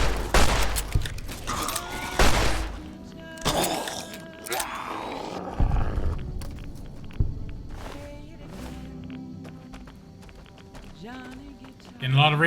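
Bursts of gunfire from a weapon in the video game Fallout New Vegas, loud rapid volleys in the first seconds then sparser shots, mixed with game effects and a voice talking throughout.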